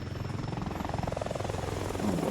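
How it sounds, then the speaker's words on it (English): Military helicopters at a parade produce a loud, close rotor thump, pulsing rapidly and evenly over a steady engine whine, with no talk over it. "They've even got helicopters."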